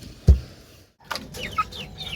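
Chickens on a farm, kept as backyard poultry, give a loud single cluck at the start and then softer scattered clucks and chirps through the rest of the moment.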